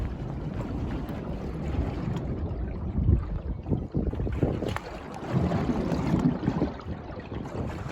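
An oil well flowing on its own after treatment with fresh water and chemicals, before its pumping unit is started: a steady rough rushing and rumble outdoors, with gusty wind buffeting the microphone.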